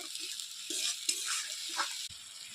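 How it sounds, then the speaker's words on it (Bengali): Ginger, cumin, chilli paste and turmeric frying in a pan for a vegetarian jackfruit kofta curry, a steady close sizzle that surges in bursts as the spices are stirred. "আমি ভালো করে মশলাটা ভুজে নেব"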